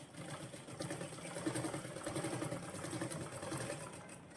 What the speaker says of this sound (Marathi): आणि आता ह्याला शिलाई मारून अस्तर जोडून घ्यायचंय.